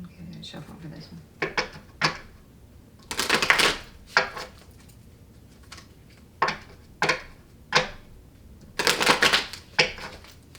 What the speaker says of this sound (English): I'm gonna shuffle for this one.